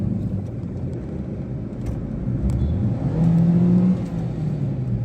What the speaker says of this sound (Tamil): வண்டி என்ஜின் நல்லாவே ரெஸ்பாண்ட் பண்ணுது. சூப்பராக வந்து ரெவ் ஆகுது